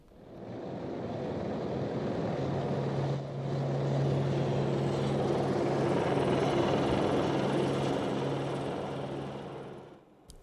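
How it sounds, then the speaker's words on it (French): An Écureuil helicopter flies over Lamballe, its engine and rotor a steady, broad drone that swells in the middle and holds level before cutting off abruptly at the end. "Un hélicoptère, au-dessus de Lamballe, voilà qui est peu ordinaire."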